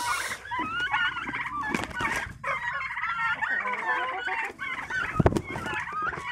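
Egg-laying hens cluck and squawk continuously at close range in a coop, with a rooster-like call among them and a person talking in between.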